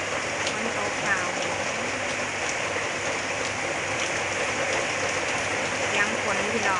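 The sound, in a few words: heavy rain pouring down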